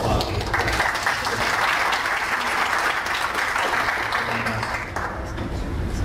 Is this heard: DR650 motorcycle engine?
no